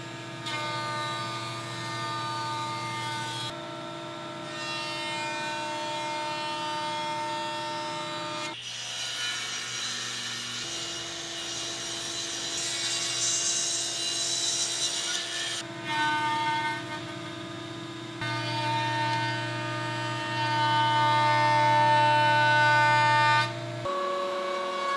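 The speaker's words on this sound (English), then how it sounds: "I'm going to rip the opposite edge to rough width at the table saw" Boards being edge jointed and ripped to rough width on a table saw for a panel bed, a steady loud machine drone with several distinct passes starting and stopping, and no talking.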